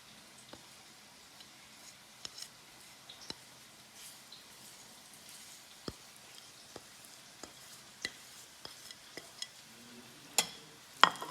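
Onions frying in a pan, heard as a faint, steady low sizzle dotted with small sharp crackles and ticks at irregular intervals, quiet and without speech.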